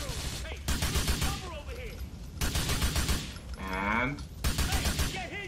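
Gunfire bursts in GTA IV come in rapid clustered volleys with short gaps, loud and close, while a player talks over the shooting.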